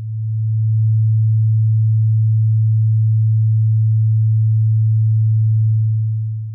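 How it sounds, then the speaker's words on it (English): A steady, pure low sine tone from a modular synthesizer oscillator holds unchanged for several seconds while the filter cutoff is slowly turned, fading in and out gently at the ends, with no audible change in timbre. "Let's switch the oscillator's output to the sine wave."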